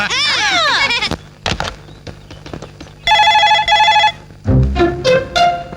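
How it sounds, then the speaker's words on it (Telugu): A phone rings in two repeated electronic bursts, loud and close, after a short stretch of clattering and other noise. "రింగ్ అవుతుందిరా"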